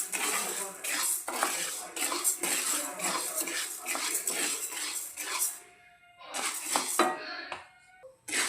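Urad dal dry roasting in a pan, close metallic scraping and rattling of the spoon and grains against the pan in quick bursts, with a short pause before the stirring resumes.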